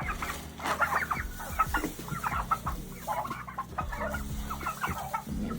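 A pet turkey clucks repeatedly at close range, short choppy calls in an uneven rhythm with a steady low hum beneath.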